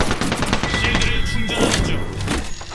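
Rapid gunfire in an Apex Legends match, with a continuous crackle of shots, booming impacts and bursts layered over each other, close and loud throughout.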